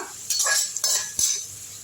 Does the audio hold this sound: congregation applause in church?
no